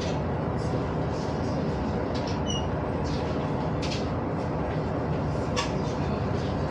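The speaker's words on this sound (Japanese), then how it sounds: "はい、それでは列車も行きます。" A Sanriku Railway train departs near the Osawa bridge on the Sanriku coast, a continuous low rumble and rolling roar with faint squeals above it.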